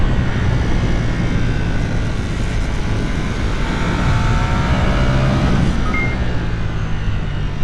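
A Lamborghini V4 motorcycle engine roars steadily on a race track during track school, a loud continuous drone with shifting pitch and no talk over it.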